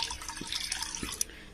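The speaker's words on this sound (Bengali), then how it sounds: "এখানে কড়ার মধ্যে এবার আমি জল দিয়ে দেবো।" Water is poured from a mug into a kadai, or wok, while cooking, making a soft, close trickle with small splashes and drips.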